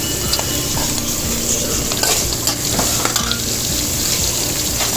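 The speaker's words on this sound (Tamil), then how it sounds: "இப்போ வெங்காயத்தையும் சேர்த்துக்குவோம்" Onions with green chilies sauté in a hot pan for egg rice, a steady loud sizzle running throughout with occasional scrapes and clicks of a spoon against the pan.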